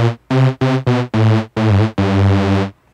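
Korg Volca Bass synth with its oscillators detuned further apart plays a loud sequence of seven buzzy bass notes. The notes are short and staccato at first, then longer, with a thick, phasey timbre.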